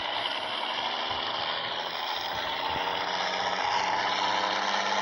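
Truck engine in a truck simulator game, a steady continuous drone with a low rumble and slight rising swell toward the end, with no talking.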